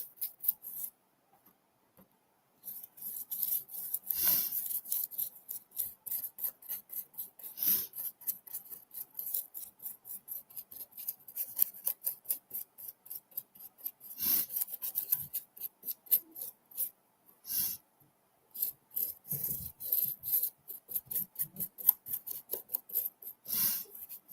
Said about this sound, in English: I'm going to go ahead and run some sealer over my paintwork as well.